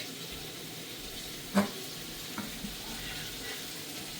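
Roast bubbles in a large cooking pot at a big outdoor feast for a newborn's aqiqah, a constant low sizzling hiss with a soft knock or two, without talk.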